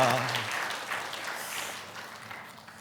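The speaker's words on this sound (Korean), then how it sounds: "우리 큰 박수로 환영하도록 하겠습니다" Church congregation at Sunday worship clapping to welcome visiting pastors, a warm burst of applause that gradually fades, with a brief voice at the start.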